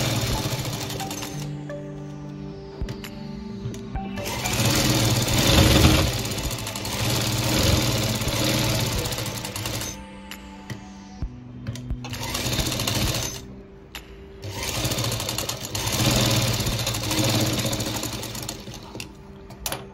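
A sewing machine stitches a baby jacket in several loud rattling runs of rapid needle chatter, pausing briefly between seams and restarting, close and dominant throughout.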